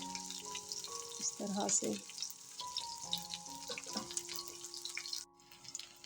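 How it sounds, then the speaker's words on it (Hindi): Chicken and vegetable kebabs fry over a low flame in a pan, giving a steady close sizzle with faint spoon scrapes, while someone talks over it. "बस सब फ्राई हो रहे हैं अच्छे से"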